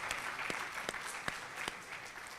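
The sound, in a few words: audience applause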